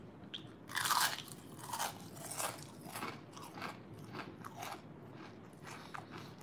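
Crunchy Chinese takeout with crispy skin is bitten and chewed up close, a loud first crunch followed by a steady run of crackly chewing bites, with no talking.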